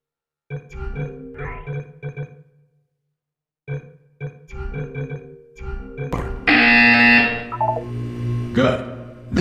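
In Portal 2, a synthetic voice speaks in short bursts, then a loud, harsh, sustained electronic buzzer blares for about three seconds.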